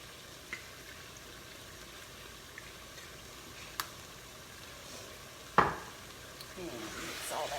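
Ground meat with Worcestershire sauce is stirred in a soup pot over a low, steady sizzle, with a few light spoon clicks and one louder clank against the pot.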